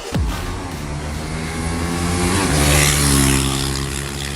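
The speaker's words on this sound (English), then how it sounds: "This time I'm riding KTM 390 Duke from 2021" A 2021 KTM 390 Duke single-cylinder motorcycle engine pulls steadily while riding, its harmonic drone climbing and settling through gear changes, loud and close with constant wind rush and no voices.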